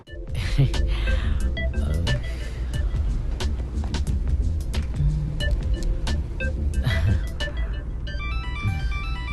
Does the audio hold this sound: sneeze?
no